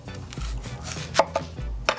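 A knife slices through an onion on a cutting board while a cucumber salad is prepared, giving a few sharp, close chopping thuds and cuts spaced irregularly, with no talking.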